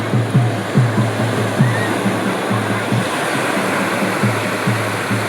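Water rushes and surges loudly and continuously at an idol immersion by the water's edge, with a rhythmic low churning under the roar and faint voices in the background.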